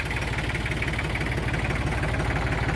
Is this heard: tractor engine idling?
yes